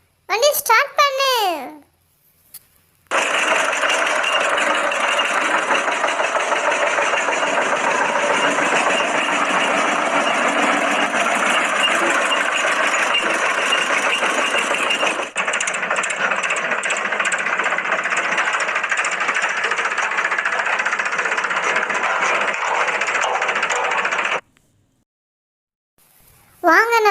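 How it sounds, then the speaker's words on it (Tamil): A vehicle engine starts up and runs with a loud, steady drone for about twenty seconds before cutting off, with a voice briefly heard at the start and end. "வண்டி ஸ்டார்ட் பண்ணு."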